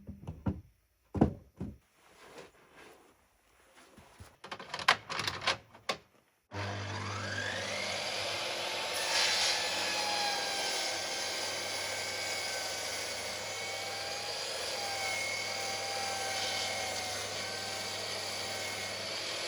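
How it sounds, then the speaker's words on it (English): A power tool squares up one face of timber: a few scattered knocks and handling thuds, then the motor starts and runs as a steady, moderately loud whine and roar that continues to the end. "So this is just for squaring the timber up on one face when I already have done the other sides."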